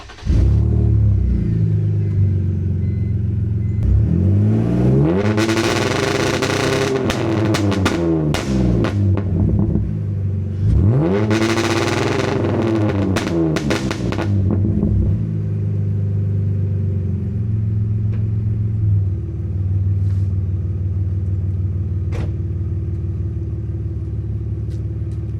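BMW E46 with an MS43 two-step launch control setup, warmed up and idling with a steady engine rumble, then revved hard twice in long sweeping pulls with crackling bursts before settling back to idle, close and loud, no talk.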